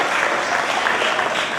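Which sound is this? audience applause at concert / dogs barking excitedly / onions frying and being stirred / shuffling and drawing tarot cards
audience applause at concert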